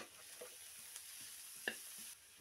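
Grated cabbage and carrot are stirred in a frying pan for egg fried rice, giving a quiet, steady sizzle with soft scraping strokes and one brief sharper scrape of the spatula, no voices.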